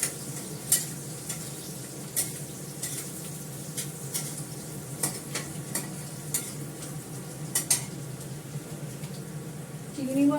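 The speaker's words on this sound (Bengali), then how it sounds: "পেঁয়াজটাকে ভালো করে লাল করে ভেজে আমি রসুন বাটাটা দেবো আর আদা বাটাটা দেবো।" Onions frying in a pan for a Bengali fish curry, a steady soft sizzle with recurring scrapes and clicks of a spoon stirring, heard alone at moderate level.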